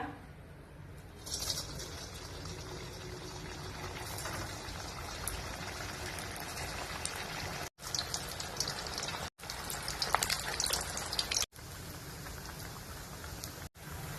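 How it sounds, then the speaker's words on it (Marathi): Sabudana vadas dropped into very hot oil and deep-frying, giving a steady, dense crackling sizzle that runs the whole time at a fairly even level, broken by a few brief gaps. "तेल छान कडकडीत गरम झालंय आता आपण वडे सोडून घेऊया"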